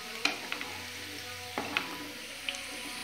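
Onions deep-frying in oil for beresta, a faint continuous sizzle broken by a few light metallic taps and scrapes of a utensil, close by and fairly quiet.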